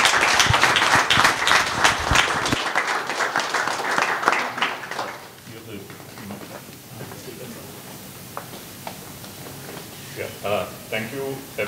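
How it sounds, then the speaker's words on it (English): An audience claps at the close of a design competition, with a dense burst of applause that fades out partway, followed by talking and a few scattered claps. "I'd like to sort of give everybody a round of applause for participating"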